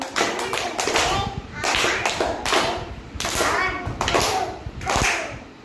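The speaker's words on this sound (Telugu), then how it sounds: "మళ్ళీ కొట్టండి క్లాప్స్" Children clap their hands together in a classroom activity, several bursts of brisk, loud group clapping separated by brief pauses, with young voices murmuring underneath.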